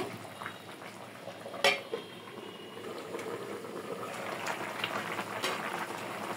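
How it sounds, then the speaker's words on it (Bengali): A metal lid clanks once onto a cooking pot of simmering cauliflower, bean and snakehead fish curry, a sharp single clink with a smaller knock after it, over a steady low bubbling. "একটু ঢাকনা দিয়ে দেব।"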